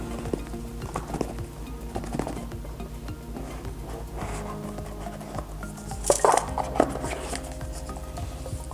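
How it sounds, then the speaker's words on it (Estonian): The SMOK Stick M17 e-cigarette comes out of its package with light plastic and cardboard rustles and taps, a brief clatter of handling partway through, close up with no talking. "Võtame ta pakist välja."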